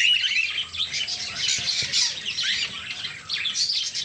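Caged lutino cockatiels keep up shrill, overlapping squawks and chirps throughout. The chatter is steady and fairly loud, with no voices.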